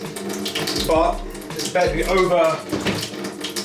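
Water surges back out of a Vaillant boiler during a flow turbine repair, a loud gushing and splashing rush with brief gurgles, while someone talks over it.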